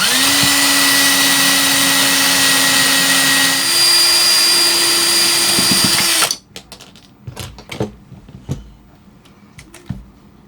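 A thin-blade saw cuts a plastic lip off a Roomba part with a loud, steady motorized whine for about six seconds, then stops, leaving scattered small clicks and handling noises.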